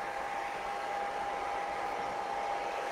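Hair dryer fitted with a diffuser blowing on curly hair, a steady close whirring rush with a constant motor whine running unbroken and loud throughout, no voices.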